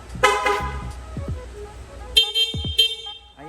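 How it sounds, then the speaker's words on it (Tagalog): The stock horn on a Honda Click v2 motorcycle gives several short, loud honks in quick bursts, close by, with brief pauses between toots. "stock horn."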